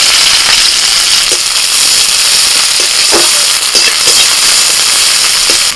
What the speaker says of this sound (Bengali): ওই তেলের মধ্যে দিচ্ছি পেঁয়াজ কুচি